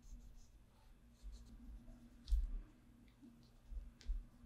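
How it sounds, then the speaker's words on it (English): Caran d'Ache Neocolor II wax crayon drawn over a dried, watered layer on paper, giving faint, soft scratchy strokes in a few short bursts, close and quiet over a low background hum. "So let's just draw on top"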